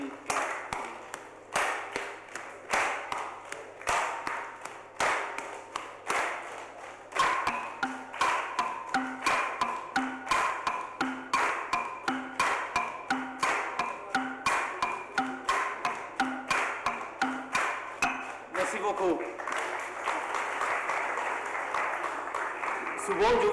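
An audience at a percussion show claps the kitipla rhythm together, alternating right and left, producing steady rhythmic bursts of many hands. The clapping builds to a denser, continuous applause-like wash near the end.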